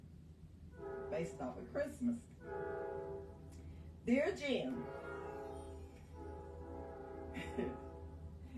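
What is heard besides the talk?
passing train with horn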